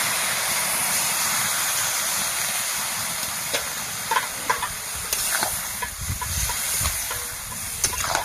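Water poured into a hot pan of shaluk (water lily stems) with turmeric sets off a loud, steady, broad hissing sizzle that continues throughout, with a few small pops and clinks.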